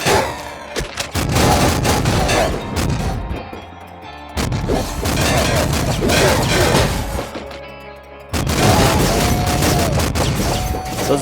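Loud, crashing explosions of robot enemies in the top-down shooter Nuclear Throne, dense bursts of blasts and debris in several waves with short lulls between them.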